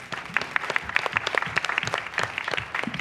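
An audience at a film festival filmmaker forum applauds, a dense patter of many hands clapping steadily at moderate distance across the whole stretch.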